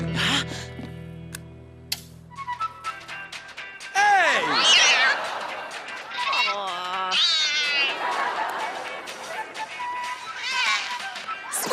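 A cartoon cat with a cold gives a series of strained, hoarse meows and rough cries, loud and close, with a background tone at the start and animated voices mixed in.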